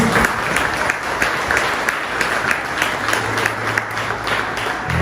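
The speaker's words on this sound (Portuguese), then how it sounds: "Você pode aplaudir o Senhor bem forte aí?" A church congregation claps loudly and continuously, the dense crowd applause holding steady with a low hum entering under it toward the end.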